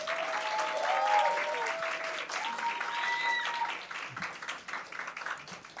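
Sustained group applause fills a hall at a 2023 youth church retreat, a thick wash of clapping with scattered whoops and whistles rising over it before it thins out toward the end.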